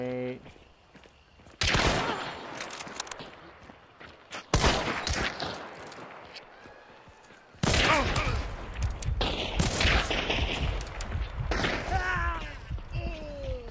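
Gunfire in the Hunt: Showdown video game, with several loud sharp shots and bursts of firing, thuds and footsteps mixed in, and a voice talking over parts of the action.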